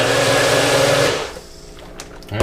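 A Magic Bullet blender whirs loudly as it blends a peanut butter banana protein shake, then the motor winds down and stops about halfway through, leaving only a few faint clicks and a soft thump.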